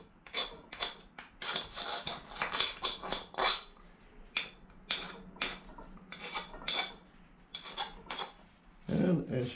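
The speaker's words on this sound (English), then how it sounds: "we have to remove all of these burrs now. Just use a file, clean it up." A hand file rasps across the cut edges of an aluminum frame to remove burrs, in a series of close, scratchy strokes with short pauses between them. A clank sounds near the end.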